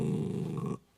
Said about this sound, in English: Not nice to growl because you're tired.